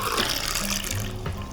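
Water pours from a jug into a pot to make simple syrup, a steady close splashing stream that runs throughout and eases slightly toward the end, with no talk over it.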